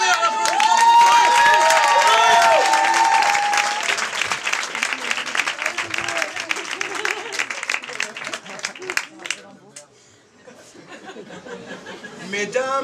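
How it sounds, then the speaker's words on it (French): A studio audience bursts into loud, sustained applause for a performer named Joris at a weekly literary evening show, strong at first and then thinning into scattered clapping, with some laughter and cheering mixed in. "on vous demande de faire un tonnerre d'applaudissements"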